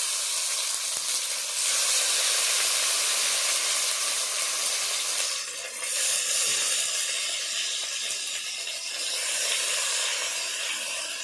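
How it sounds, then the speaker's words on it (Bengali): Gourd-leaf paturi parcels stuffed with chhana and green chillies fry in hot mustard oil, giving a loud, continuous close-up sizzle and hiss that swells and dips slightly over eleven seconds, with no voices. "এবার আমি পাতুরিগুলো ভেজে নেব সর্ষে তেল গরম হয়ে গেছে"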